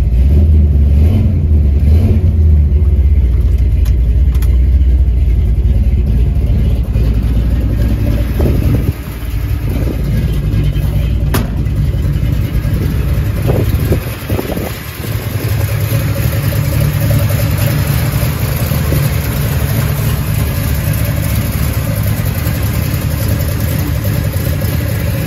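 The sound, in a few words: 1964 Mercury Marauder coupe engine running and exhaust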